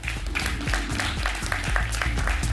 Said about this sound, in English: Please, a big round of applause to the panel here and in Accra